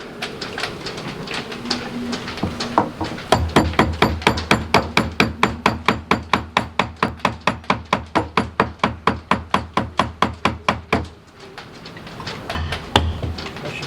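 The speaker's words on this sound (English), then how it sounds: "We got a hammer." Rapid steady hammer blows on a catamaran during an in-situ engine mount and seacock refit, about three strikes a second for several seconds, loud and close, with shuffling before and after.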